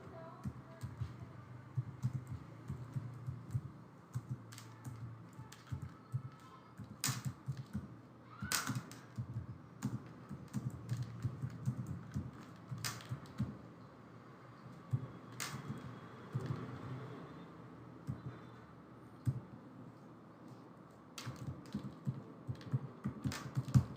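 Label text is typed on a computer keyboard in irregular bursts of soft, close keystroke clicks, with short pauses between runs and no speech.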